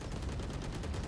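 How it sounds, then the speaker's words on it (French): Gunfire in a Valorant esports match rattles in a rapid, continuous burst of close shots lasting about a second, with no speech. "des coups de feu de partout"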